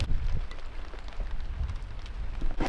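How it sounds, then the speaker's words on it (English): Rain falls steadily at an off-grid cabin build site as the floor framing goes up under thunderheads, a soft broadband patter of drops on surfaces throughout, with a few sharper splashes and no voices. "You're getting rained on."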